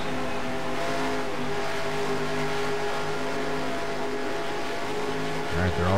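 Race cars in the NR2003 racing game roar at around 240 to 250 mph, a dense sustained engine drone with layered pitches from a pack running four wide, a louder surge near the end, and a voice talking over it.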